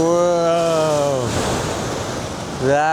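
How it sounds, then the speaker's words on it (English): A rogue ocean wave crashes at a jetty while fishing for yellow croaker at Knob Hill, a loud broad rushing surge over strong wind and a tonal engine hum. "you're gonna have those types of waves from time to time, right, guys? Like little rogue waves and everything"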